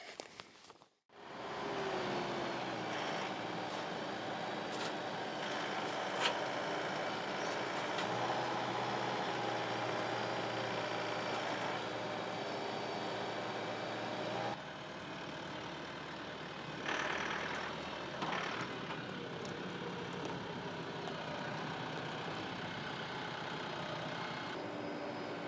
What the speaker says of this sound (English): I'm gonna grab the tractor with the grapple, take it over to the woodshed